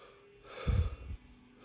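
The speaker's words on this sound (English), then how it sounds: "I'm breathing hard now." Heavy breathing after a spoonful of super hot sauce, one loud close breath or snort-like exhale lasting about half a second, then quiet.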